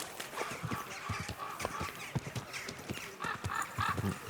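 Horse hooves clip-clop in a steady, brisk rhythm as a rider travels through a medieval village in Kingdom Come: Deliverance 2, with a whinny and faint background ambience.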